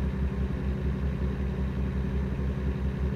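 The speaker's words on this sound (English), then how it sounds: "Maybe it's the sound of the engine, like, reverberating off of the tunnel" A truck engine in American Truck Simulator drones through a tunnel, a deep, steady low rumble with a pulsing throb and a reverberant wash around it, alone and fairly loud throughout.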